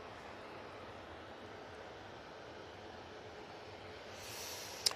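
Ryanair Boeing 737-800 jet moving at Manchester Airport, heard as a faint, distant, steady engine rumble with a short sharper noise right at the end.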